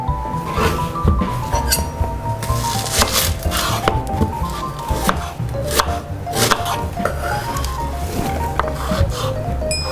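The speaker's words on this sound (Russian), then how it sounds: "Лук порежу полукольцами, морковь пошинкую соломкой." A knife chops onion into half-rings and carrot into thin strips rapidly and steadily on a cutting board, the crisp close-up strokes continuing without pause and with no talking.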